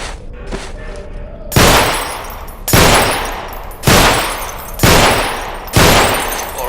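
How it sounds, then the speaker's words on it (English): Pistol shots at bottles in the video game Underhell: five loud, evenly spaced gunshots about one second apart, each with a sharp crack and a lingering reverberant tail. Faint sounds come before the first shot. "firing from the hip is not an easy business. Especially with a sidearm."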